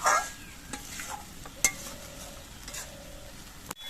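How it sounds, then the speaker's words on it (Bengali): Pointed gourd (potol) pieces gently stirred in a pan, quiet sizzling under a few soft scrapes and light clinks of a spatula against the pan. "আস্তে আস্তে নাড়াচাড়া করতে হবে যাতে নাকি পটলগুলো ভিঙে না যায়"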